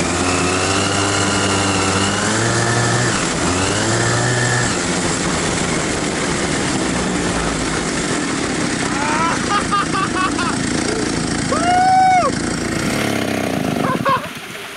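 A homemade snowmobile built from a sleigh and a chainsaw engine revs loudly and steadily, its pitch rising and falling, with people talking and shouting over it before it cuts out near the end.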